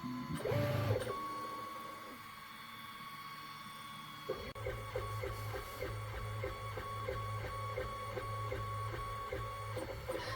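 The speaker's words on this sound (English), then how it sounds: "Let's try this 24-minute high-speed test print." A Creality Hi 3D printer runs a high-speed single-colour test print, its stepper motors whining and buzzing steadily up close with a rapid repeating ticking rhythm as the moves speed up.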